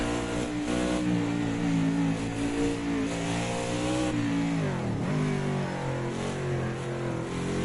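A modern NASCAR stock car's engine drones loud and continuous from onboard on the bumpy Nordschleife, its pitch rising and falling as the throttle is worked, with a sharp dip midway as the revs drop and build back.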